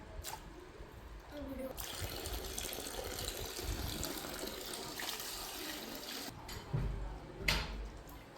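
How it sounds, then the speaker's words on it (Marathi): Water runs and splashes in a sink while potato finger chips are swished around in it, with brief handling clatter and a soft voice in the background. "दोन पाण्याने वॉश झाल्यानंतर परत एकदा पाणी घ्यायचं"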